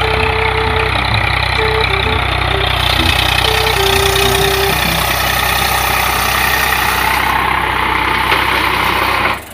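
A tractor engine idles close by with a loud, steady low throb and a faint rhythmic knock that runs unbroken for several seconds before cutting off abruptly at the end.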